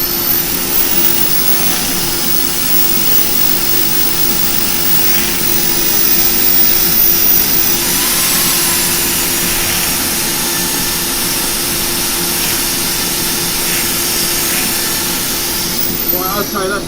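A loud, steady whine of a power drill spinning a wooden woodturning piece during sanding runs continuously throughout, a constant mechanical drone close by with little variation.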